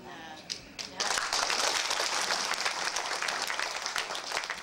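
An audience in a temple's main hall breaks into applause for the master after a brief murmur, a dense wash of clapping that starts abruptly and holds steady, close and fairly loud, to the end.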